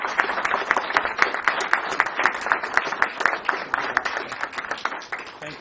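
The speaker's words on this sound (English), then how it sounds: "So, round of applause." Steady applause breaks out at a city commission meeting to honour a girls' hockey team that won the state championship, with dense clapping from a mid-sized room that holds for several seconds before easing off.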